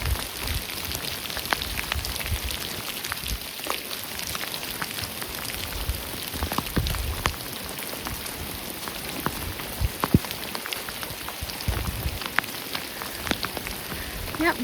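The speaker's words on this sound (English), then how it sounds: "It's been pouring rain" Pouring rain falls steadily during a fall canoe trip in Killarney Provincial Park, a dense, even patter of drops striking nearby surfaces with occasional sharper taps, continuous and fairly close.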